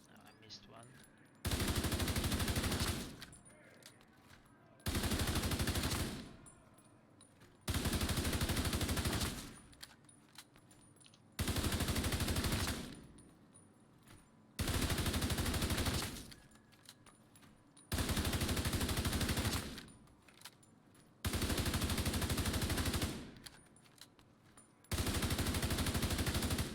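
Bursts of assault-rifle fire in a video game raid, loud, sustained volleys of about one to two seconds each, repeating steadily with short quiet gaps between them.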